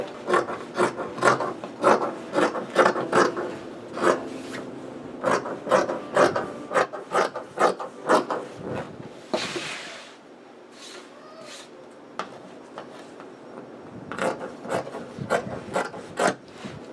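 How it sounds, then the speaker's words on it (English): Scissors cutting through leftover fabric for a beginner's apron-style cape kimono, a steady run of close, crisp snipping and rasping strokes with a brief pause midway before the cuts resume. "I'll go ahead and cut the leftover fabrics"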